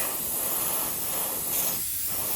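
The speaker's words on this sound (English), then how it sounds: "Now I will just spray on the base more yellow to give it that rich" An airbrush spraying yellow paint onto the base of a 3D printed figure gives a steady, close, even hiss with no break.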